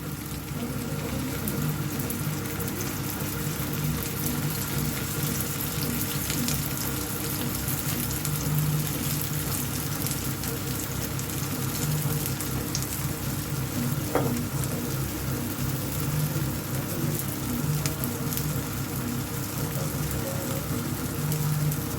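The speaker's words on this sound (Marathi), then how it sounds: "मधी मधी ना तेल सोडायचं असं म्हणजे आपला धपाटे ना एकदम खरपूस भाजतात" Oil sizzles steadily as cabbage dhapate (jowar thalipeeth) roasts in a hot pan, a constant hissing crackle running alone throughout with no voices.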